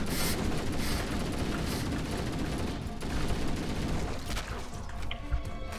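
Needler fire and gunfire from infected marines during a Flood encounter in Halo: Combat Evolved on Legendary, a dense, continuous barrage of shots and bursts with bangs that stay loud the whole way through.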